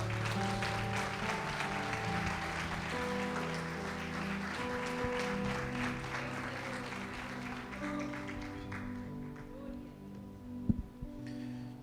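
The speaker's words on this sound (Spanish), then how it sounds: "Denle un fuerte aplauso al Señor en esta noche." A church congregation claps during an evening worship service, a steady wash of applause running over sustained music for the whole stretch, tapering slightly near the end with a couple of sharp knocks.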